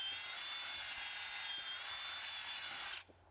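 Drilling a hole for termite treatment: a close, high-pitched whine of a drill running steadily for about three seconds before stopping abruptly, with no talking.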